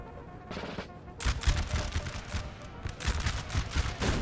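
Massed musket volleys from line infantry in Napoleonic Total War 3, a 4v4 battle, with rolling overlapping shots and crackling fire, sparse at first and then dense and sustained.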